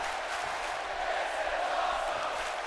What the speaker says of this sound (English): And this crowd appreciating Seth Rollins taking it up a notch here on the Kickoff show for Survivor Series